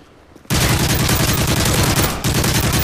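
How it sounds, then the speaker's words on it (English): Gunfire in Modern Warfare 3's Resistance survival mode, with an ACR-type rifle in play: after a brief quiet start, loud sustained rapid fire, one short gap, then the fire resumes close and dense. "They're still shooting at me."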